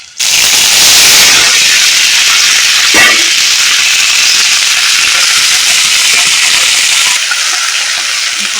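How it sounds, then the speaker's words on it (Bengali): Leafy greens hit hot oil with sizzling garlic and black cumin seeds in a pan, giving a loud, sustained hiss that bursts up at the start and stays steady throughout, with no talking. "রসুনটাকে দিয়ে এবার ভাজা করে নেব এবারে দিয়ে দেব শাক"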